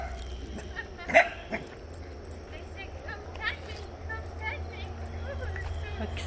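Puppies bark and yip in short bursts in a backyard garden, a couple of sharp yelps standing out, while people talk nearby over a low rumble.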